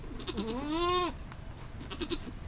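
A Nigerian dwarf goat gives a single loud, drawn-out bleat up close. It rises and wavers, then stops, leaving faint background noise.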